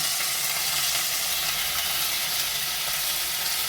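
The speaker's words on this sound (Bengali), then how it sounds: "আদা রসুনের কাঁচা গন্ধটা চলে গেলে দিয়ে দিলাম মাংসের কিমাটা" Minced chicken frying in a pan with onion and ginger-garlic paste, a loud, even, continuous sizzle and hiss close up, with no pauses and no talk.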